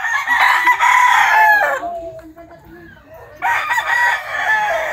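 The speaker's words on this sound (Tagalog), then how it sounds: "Ang daming manok." Several chickens and roosters on a farm crow loudly and close by, with two long cock-a-doodle-doo bursts framing a quieter stretch of clucking and faint rustling in the middle.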